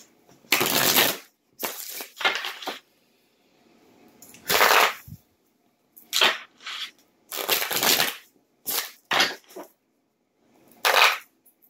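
Tarot cards are shuffled in a series of irregular riffling and rustling bursts separated by short silences, close and fairly soft with no talk.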